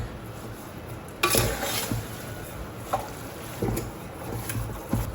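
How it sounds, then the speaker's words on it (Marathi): Minced meat stirred in a pan for Goan mince hot dog rolls, with a spoon scraping and clinking against the pan in irregular bursts over a steady low bubbling hiss, close and moderately loud. "हिमो आमकां कंटिन्यू स्टर करूंक जाय, नाजाल्यार तितून लम्स जातले देखून."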